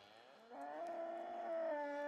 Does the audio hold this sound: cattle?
yes